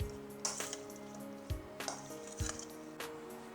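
Chicken pieces being tossed with coarsely ground spices, coriander powder, chili powder and salt for biryani, giving several soft wet squelching and clinking strokes in a bowl, close and fairly quiet, with no talking.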